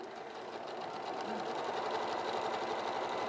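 A sewing machine stitches a butterfly quilt block in a steady, unbroken whir that stays close and fairly loud for the whole stretch, with no talking over it.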